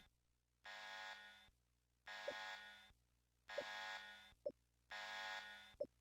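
A harsh electronic alarm buzzes in a video game set during a break-in at a nanotech facility, pulsing in four long, evenly spaced bursts with short gaps, steady and alone with no talking.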